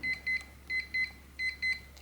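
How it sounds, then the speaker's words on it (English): A Kwikset 955/917 lock keypad beeps as it confirms a programming code: six short electronic beeps in three pairs, evenly spaced, close and clear over quiet background hum. "So you're going to hear a long beep and see a green flash here, meaning the programming code is now active"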